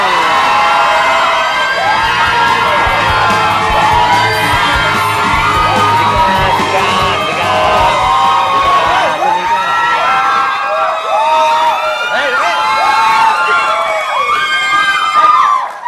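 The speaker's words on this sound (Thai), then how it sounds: "ขอเสียงกรี๊ดดังๆนะคะ" Thai TV talk show studio audience screaming, whooping and cheering loudly and continuously, piercing cries layered over a dense crowd roar.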